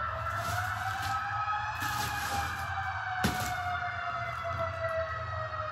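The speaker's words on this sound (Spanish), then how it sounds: "Está pasando una ambulancia." An ambulance siren passes outside, its wailing tones holding steady and fairly loud throughout, with a low rumble of traffic beneath and a brief knock partway through.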